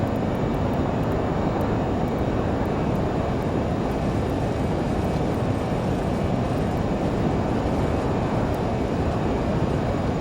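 Learjet 35A jet engines spooled up to takeoff power in a flight simulator, a loud continuous roar with a steady high whine and faint regular ticks on top.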